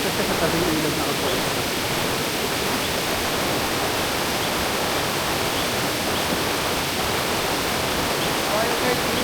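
River water rushes steadily at a riverside, a dense, unbroken hiss and roar that stays constant throughout.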